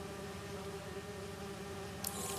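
Bees buzz in Marvel's Spider-Man 2, a steady low insect drone holding throughout at moderate level beneath a droning background, with a brighter burst of noise near the end.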